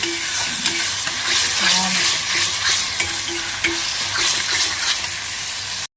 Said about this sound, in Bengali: এই যখন জল দিয়ে দিয়েছি জলটা ফুটছে